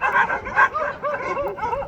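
Small dog barks and yips a few times in quick succession, close and fairly loud, with a whimpering tone and no talking.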